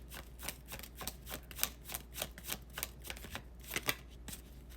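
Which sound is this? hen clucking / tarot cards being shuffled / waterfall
tarot cards being shuffled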